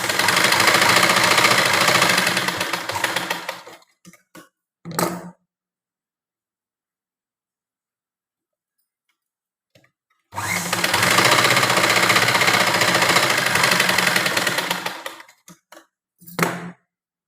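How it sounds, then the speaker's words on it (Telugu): Sewing machine stitching hooks and buttonhole loops onto a blouse, running in two loud steady bursts of several seconds each, separated by a long silence and followed by a few short clicks and taps. "నేను ఉక్కులు అలాగే కాజాలు రెండు మిషన్ పైన ఎలా పెడతానో చూపిస్తాను"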